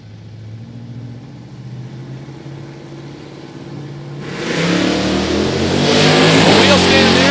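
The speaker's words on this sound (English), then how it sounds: "This is a Pro-Charged Pontiac-powered Firebird." A Pro-Charged, Pontiac-powered 1969 Firebird launches at a drag strip, its engine rising from a low rumble to a loud, roaring surge about halfway through, with a commentator's voice over it.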